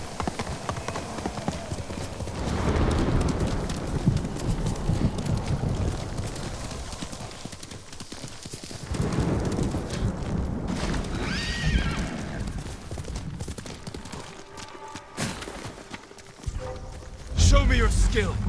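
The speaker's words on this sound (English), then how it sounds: "Call my horse." Horse hooves clip-clopping at a run with a whinny, in the samurai video game Ghost of Tsushima on Iki Island, loud over wind and game ambience, with someone talking over it.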